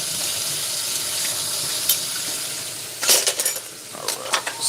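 Water runs steadily from a tap in a sink to rinse, a constant hiss throughout, joined near the end by a few clinks of dishes or cutlery.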